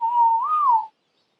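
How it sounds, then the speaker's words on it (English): A single sustained whistle from a player in Ark Survival Evolved, a command to make a tamed creature stop. It is a clear, steady tone about a second long that rises briefly in the middle, then cuts off into silence. "I'm going to whistle him to stop."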